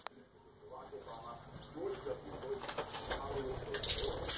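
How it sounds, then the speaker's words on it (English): A pet bird coos softly indoors in short, repeated low calls, with a person's voice talking close by and some household noise underneath. "That's my bird."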